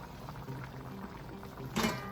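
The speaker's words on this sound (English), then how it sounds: "So you don't pour the water on the meat, you pour it in a corner of the pot." Water is poured into a corner of a pot of Jamaican-style stew pork, a soft bubbling, simmering wash that swells into a brief louder splash near the end, with no voices.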